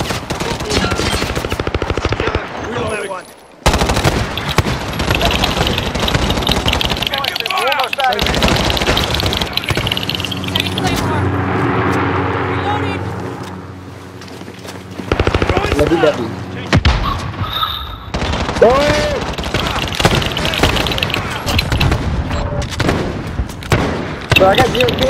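Video game gunfire fills the whole stretch, with dense, loud bursts and single shots that are almost unbroken. A voice talks underneath in places.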